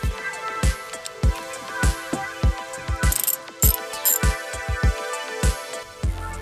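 A ratchet wrench clicking in quick bursts as a bolt is fastened to attach a ground wire in a Honda Prelude, sharp metallic ratcheting repeated at close range with brief pauses, no talk.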